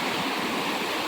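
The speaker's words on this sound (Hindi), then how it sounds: "और यहाँ पे गधेरा हो गया" A small mountain stream beside a hillside village path rushes steadily nearby, producing a continuous, even wash of flowing water with no pauses or speech.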